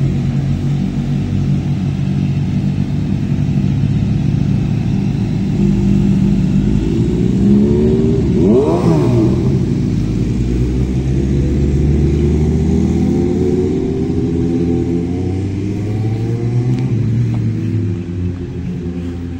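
Big bike motorcycles on Daang Hari road, a loud continuous engine rumble with a sharp revving pass around the middle as one machine accelerates by close, then the drone fades back to steady traffic.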